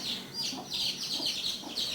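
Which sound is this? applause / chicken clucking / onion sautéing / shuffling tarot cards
chicken clucking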